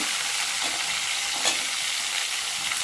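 Small onions and garlic sizzle steadily in a hot pan, a continuous close frying hiss with occasional stirring scrapes and no talking.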